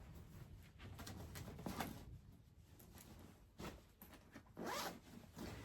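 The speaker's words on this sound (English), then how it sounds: "I've opened the zip up to put them in" A zip on a LEVEL8 suitcase being pulled open in several close, scratchy zipping runs of uneven length, fairly quiet, with no talking.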